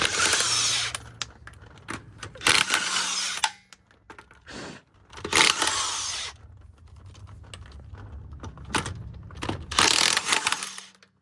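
A power tool with a 22 mm socket removes lug nuts from the wheel of a Dodge Charger or Challenger, giving several loud whirring and rattling bursts separated by short pauses, close by, with no voices.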